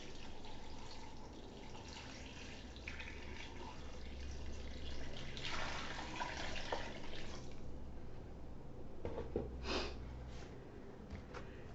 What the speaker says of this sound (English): I'm going to take my bucket and I'm going to pour some water in here.